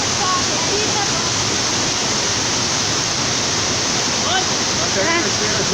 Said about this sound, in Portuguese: Pega a cachoeira junto.